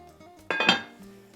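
A metal lid set onto a cooking pot of simmering birria meat, a quick bright clank with a couple of ringing clinks that fade over a quiet kitchen background.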